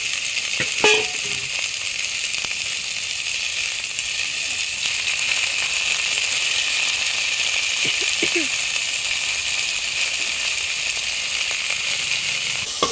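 Ginger garlic paste fries with mutton paya in a pan, a steady broad sizzle running the whole time with a few scattered metallic clinks and scrapes of stirring.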